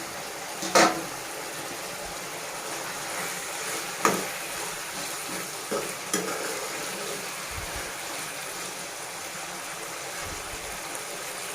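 Potatoes frying in a pan for atukula poha, with a faint, steady sizzle under a few sharp clinks and scrapes from a utensil against the pan.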